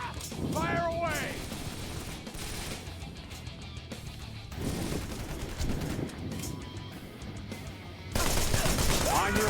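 Gunfire in the action video game Wanted: Dead, dense bursts of shots and crashing impacts layered under game effects, getting louder toward the end.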